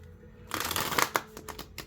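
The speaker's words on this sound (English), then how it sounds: "And if I can get this to shuffle right." Stiff tarot cards riffled and shuffled by hand, a fast flurry of papery flicks and snaps starting after a brief quiet, closely miked, with a few sharper card slaps near the end.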